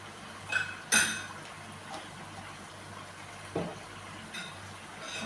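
A spoon mixes ginger garlic paste in a metal pan, giving a few sharp close clinks against the pan amid quieter scraping and soft stirring, with no voices.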